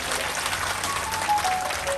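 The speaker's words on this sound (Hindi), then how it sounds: "एक बार जोरदार तालियां सबके लिए।" Sustained applause from an audience at a Bhagwat Katha religious gathering in Kajampur, dense clapping held steady and fairly close throughout with no speech over it.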